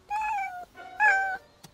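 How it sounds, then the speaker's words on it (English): A cartoon cat meows twice in a row, loud and close, with drawn-out, clearly pitched cries and a short gap between them, followed by a brief faint noise. "Another cat? Oh, why are there so many cats around here?"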